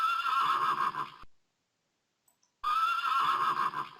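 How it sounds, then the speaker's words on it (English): A horse neighs loudly in a long, shrill whinny, breaks off into a second of silence, then whinnies again with the same bright, quavering tone. "Yeah, it's a horse, right?"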